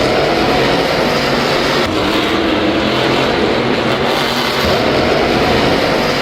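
Monster trucks Megalodon and Bigfoot racing side by side through the lanes, a dense continuous engine roar that stays loud and even throughout with no voices.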